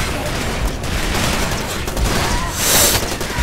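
Sustained rapid gunfire from the video game Far Cry 2, dense overlapping bursts and shots filling the whole stretch with a brighter burst near the end, loud and continuous.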